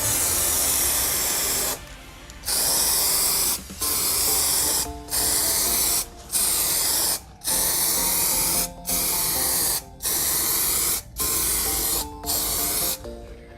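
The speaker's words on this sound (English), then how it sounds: "So you're going to go ahead and coat the outside of the equipment now." AC Pro-Tech rust protection coating sprayed from an aerosol can onto the outside of an air conditioning unit, loud steady hissing in about ten bursts separated by short pauses.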